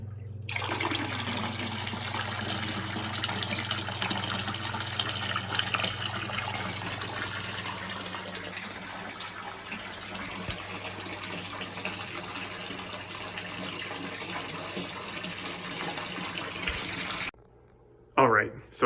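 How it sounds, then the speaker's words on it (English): A water pump fills a DIY bucket turtle filter, giving a steady broadband rush of gushing water with a low pump hum that runs almost unbroken, then cuts off near the end and is followed by a couple of brief bumps. "let's plug in our water pump and let the bucket fill up"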